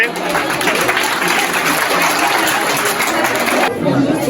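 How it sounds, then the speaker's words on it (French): A classroom crowd of students claps and chatters loudly and steadily during a school quiz contest, a dense wash of applause that cuts off abruptly near the end. "Alors, vous applaudissez pour la 4e B."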